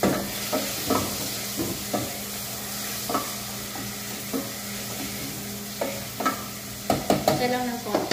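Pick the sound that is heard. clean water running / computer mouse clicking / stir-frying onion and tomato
stir-frying onion and tomato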